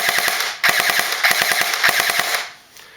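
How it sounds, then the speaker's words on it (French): Rapid full-auto bursts from an M4 BW15 compact airsoft replica, sharp close mechanical cracks fired in quick strings of a dozen or so shots, with brief pauses between bursts and no talking. "c'est la rafale."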